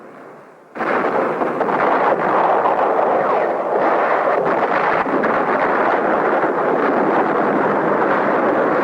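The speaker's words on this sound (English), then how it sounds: "scores a hit on the Marine ammunition dump" Ammunition dump at the Marine base at Khe Sanh, Vietnam, exploding after an enemy hit in 1968, heard as a sustained, loud roaring blast rumble that erupts after a quiet start and keeps churning for several seconds.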